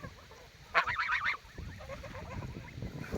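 Mammoth-breed geese honking close by, a short burst of several loud nasal honks followed by quieter scattered calls and shuffling noise.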